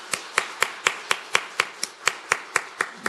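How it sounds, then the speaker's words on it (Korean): A church congregation claps in unison at a Christmas Day service, a steady rhythmic beat of about four claps per second, crisp and fairly close, with no talking over it. "우리 주님의 탄생을 축하하는 박수로 영광 돌리겠습니다"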